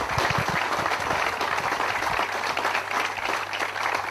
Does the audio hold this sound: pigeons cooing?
no